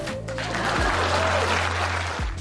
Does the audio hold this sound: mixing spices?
no